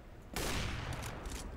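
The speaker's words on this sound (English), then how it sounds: "it's so much fun just shooting people off of ledges" Rapid gunfire in the first-person shooter CS:GO, starting abruptly after a quiet moment and continuing as a dense, sustained burst of shots.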